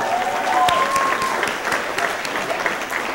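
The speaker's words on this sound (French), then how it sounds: "On l'applaudit bien fort." Applause from a gala audience at a cultural awards night fills the room steadily, a dense wash of clapping throughout, with a faint voice or tone threading briefly through the start.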